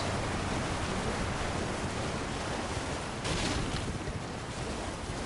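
Waterfall in Elden Ring Shadow of the Erdtree, a steady broadband rushing roar of falling water, constant and fairly faint, with a slight swell partway through.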